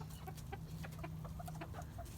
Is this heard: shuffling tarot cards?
no